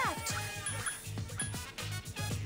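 Orthus, the dog from Persona 3, gives a run of short barks and yips in quick succession, close and fairly loud within busy game sound, with a voice briefly over it.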